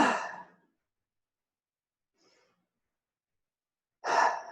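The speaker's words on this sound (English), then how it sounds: "take some deep breaths like a dog when it's sighing" Deep breaths and sighs during a mindfulness exercise: a long, close exhale at the start, then quiet, then another breathy sigh near the end, with no talking.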